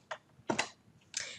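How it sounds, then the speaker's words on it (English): Three quick, crisp keystrokes on a computer keyboard, spaced apart and quiet in an otherwise still room. "I'm gonna just very quickly type ampersand sum"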